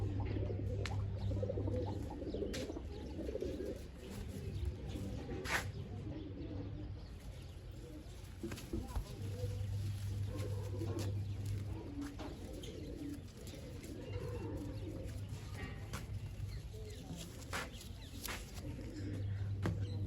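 Pigeons, including a red-marked bird, coo in low, repeated phrases through a steady hum of flock noise, with occasional faint chirps and soft background voices.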